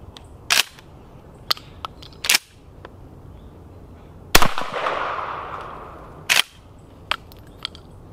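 A Springfield 67F 20 gauge pump shotgun fires reduced recoil shells: two sharp loud blasts, the second followed by a brief rolling echo, among scattered clicks and handling clatter outdoors.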